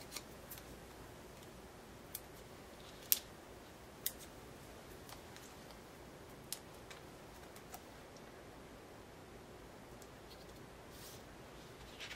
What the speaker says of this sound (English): I'm going to trace out this heart and then cut it out.